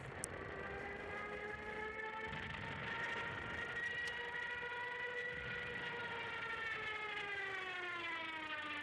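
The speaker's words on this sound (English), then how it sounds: "As well as Stuka dive bombers, or Junkers 87, which was infamous amongst the Allies for its Jericho siren." A sustained rising and falling siren wail, a layered tone with strong harmonics that slowly shifts pitch over several seconds, loud and alone, fitting the Jericho siren of a Junkers 87 Stuka dive bomber.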